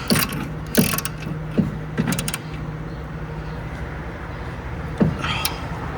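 Ratcheting wrench clicks while tightening brake caliper bolts on a 2015 Ford Escape, a few sharp mechanical clicks in short bursts, close by, with quieter workshop background between them.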